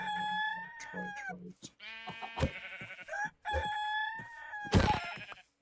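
In a video game, blood birds give loud, strained crowing calls like a rooster or goat, several drawn-out cries broken by short pauses and harsh bursts.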